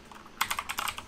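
A short, fast flurry of computer keyboard keystrokes rattles out up close after a brief quiet moment, each click distinct, alone without speech.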